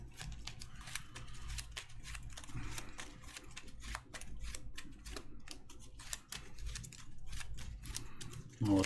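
Gloomhaven: Jaws of the Lion game cards, with a bless card added, being shuffled into a deck: a steady run of dry, close papery clicks and flutters lasting several seconds, with no voices.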